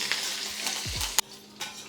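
Coarse green chilli and ginger paste frying in a pan, a steady close sizzle with stirring scrapes and a sharp metallic clack near the middle.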